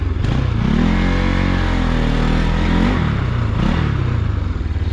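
A Bajaj Pulsar NS200 motorcycle rides through Pokhara with a loud, close engine drone that climbs in pitch. It drops sharply around a gear change, then pulls up again over steady wind and road noise.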